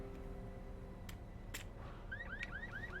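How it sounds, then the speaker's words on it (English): A car alarm in the video game Secret World Legends chirps out a run of rising electronic beeps in quick succession over a low background hum, with no talking. "Has this one got an alarm? Has it got a blinky light alarm?"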